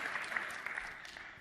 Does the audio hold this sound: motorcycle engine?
no